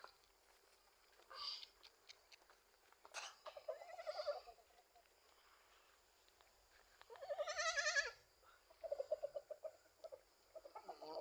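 An orphaned baby goat bleats in several short, wavering bursts with quiet pauses between, close and fairly clear; chicken clucks may mix in nearby.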